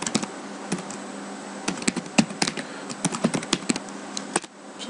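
Keys clatter on a computer keyboard while code is entered in the Excel VBA editor, bursts of close, quick uneven clicks with brief pauses between words.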